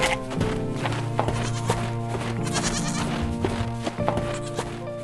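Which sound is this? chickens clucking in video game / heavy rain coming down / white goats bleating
white goats bleating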